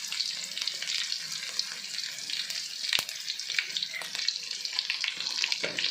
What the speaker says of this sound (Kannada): ಸ್ವಲ್ಪ ಬೆಳ್ಳುಳ್ಳಿ ಫ್ರೈ ಆದಮೇಲೆ